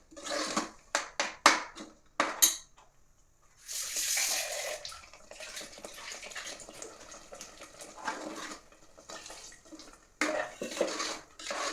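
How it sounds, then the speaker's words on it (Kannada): Water pours and splashes into a pan of chicken gravy in a few bursts, with clinks and short pauses between pours, close by. "ಇದಕ್ಕೆ ಸ್ವಲ್ಪ ನೀರು ಕೂಡ ಹಾಕ್ಕೊಳ್ಳುವ."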